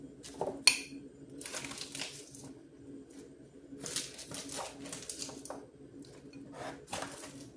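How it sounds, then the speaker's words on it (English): Salad being put into a large bowl, with soft clatters, light rustles and taps from the bowl and utensils, close but fairly quiet. "Okay, guys, so I'm gonna put my salad in my bowl."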